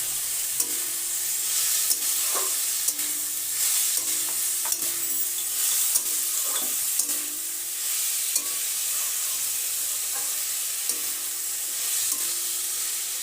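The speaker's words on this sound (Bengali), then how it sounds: "এবার দিয়ে দিলাম পরিমাণ মতো লবণ, দিয়ে ভালো করে মিশিয়ে নিলাম।" Spring roll filling sizzles steadily in a pan as salt is stirred in, a constant bright frying hiss with regular light spatula taps and scrapes throughout.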